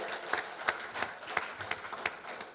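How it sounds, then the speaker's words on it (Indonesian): Audience applauding at the Abdi Nagari Award 2025 ceremony as award recipients are honoured, a moderate patter of overlapping hand claps with sharper individual claps standing out, steady and unbroken from a middle distance. "Sekali lagi kita sambut dengan tepuk tangan terbaik kita untuk para penerima penghargaan"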